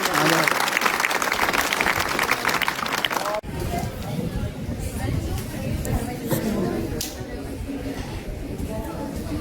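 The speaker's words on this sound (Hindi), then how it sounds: "स्काउट गाइड के लिए एक बार जोरदार तालियां बजाकर" School children's parliament audience clapping for scout guides at a government school event, a loud dense burst of applause that thins into crowd chatter and murmuring voices partway through.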